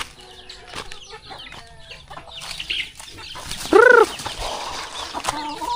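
Farm chickens cluck and call in scattered bursts as they gather near a feed bucket, with one louder rising squawk standing out near the middle and softer clucks before and after.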